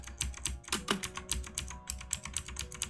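Rapid, uneven clicking of computer keys being typed on, close by and fairly quiet, with no voices.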